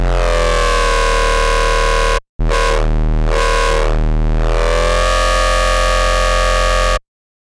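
A foghorn bass patch built in Xfer Serum plays loud and sustained, its thick low tone gliding up and down in pitch while the filter opens and closes, with a brief cut near the middle before the note returns.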